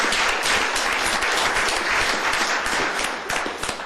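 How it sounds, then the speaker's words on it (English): Audience applause at a county commissioners court meeting, a dense, loud round of many hands clapping that holds steady for several seconds before tapering slightly. "So let's give everybody another round of applause."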